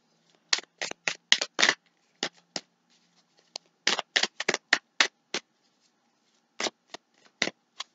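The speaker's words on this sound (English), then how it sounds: "one more shuffle" Quick crisp bursts of tarot cards riffling and bridging, coming in clustered flurries with short pauses between, close and clear with no talking.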